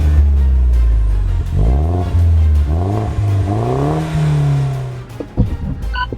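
Turbocharged, performance-tuned Mini Cooper JCW launching in a drag race with traction control off and its wheels spinning. The engine is loud and close, revving up through several rising gear pulls, with a clattering end.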